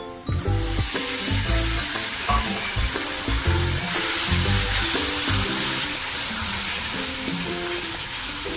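Potato pieces hit an onion tempering in a hot pan and sizzle loudly and continuously, with repeated stirring scrapes and knocks over the frying, gradually settling into a steady hiss.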